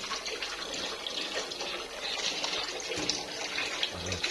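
Water pouring and splashing to rinse soap foam away, a steady broadband gush like a running tap, fairly close and continuous throughout with no talking.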